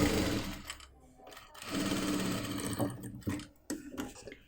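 A sewing machine stitches a sleeve onto a top, its fast motor whir running steadily up close with brief pauses and restarts as the fabric is guided.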